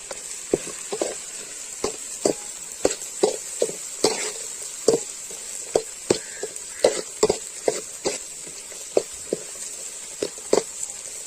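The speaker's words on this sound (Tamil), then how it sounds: "வெங்காயம் வணங்குறதுக்கு உப்பு ஆட் பண்ணிக்கலாம் லைட்டா" Sliced onions sautéing with a little salt for chicken salt curry, a steady soft sizzle broken by frequent sharp scrapes and knocks of a spoon against the pan.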